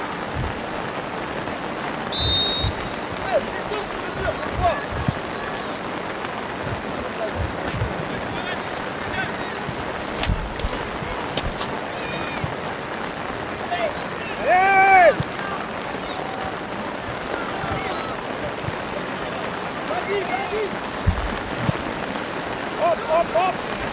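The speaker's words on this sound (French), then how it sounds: "il pleut" Steady rain falls across an outdoor under-15 boys' soccer match between AS Brossard and Cosmos Granby, a continuous hiss filling the whole stretch with occasional thumps and faint voices mixed in.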